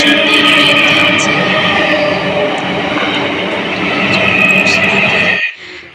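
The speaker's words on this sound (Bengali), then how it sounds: "পেছন দিয়ে ট্রেন যাচ্ছে" A train rolls past behind a railway station, a loud continuous rumble with rattling wheels and sustained metallic tones filling the scene before cutting off abruptly near the end.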